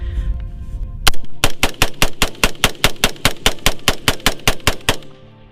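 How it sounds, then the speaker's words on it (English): A rifle fired rapidly without a bump stock: a fast, evenly spaced string of about seventeen loud, close shots, each ringing briefly before the next, with no talk over them. "we're gonna see how many rounds we can get off without the help of a bump stock"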